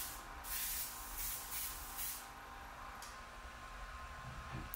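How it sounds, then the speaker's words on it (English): Colourlock Leather Fresh sprayed onto a leather boot, several short hissing bursts close to the mic in quick succession, then a quieter pause with light ticking. "So after everything's touched up, I just like to give it one more spray to even out any texture"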